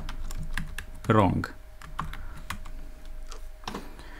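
Sparse keystrokes clicking on a computer keyboard while code is typed, faint and close, with one voice briefly speaking over the taps.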